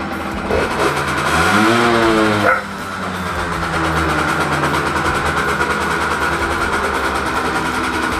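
A motorcycle engine revs up in a rising sweep, then settles into a steady, loud, rumbling idle close by.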